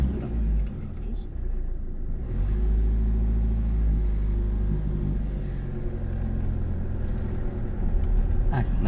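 A learner driver's car idles and then pulls away again in first gear, a steady low engine rumble with a mild rise in revs, heard from inside the cabin under an instructor's talk.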